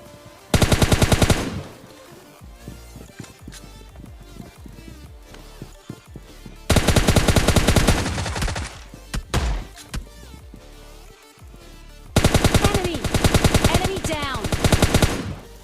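AK and M4 rifle gunfire in the PUBG video game comes in three loud, sustained automatic bursts, with quieter game sounds and scattered shots between them.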